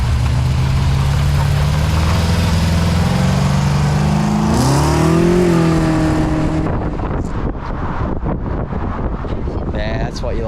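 Cars leaving an outdoor car show rev their engines; one swells and pitches up as it pulls away, then the rumble gives way to scattered revs further off, with wind buffeting the microphone.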